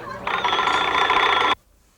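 A telephone rings in a single continuous burst of about a second and a half, loud and close, then cuts off abruptly into near silence, set in a 1990s Korean drama-documentary office scene.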